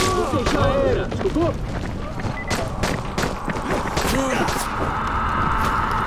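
Gunfire and heavy impacts crack and thump in the zombie game Dying Light, a rapid series of bursts mixed with game noise while voices talk over it.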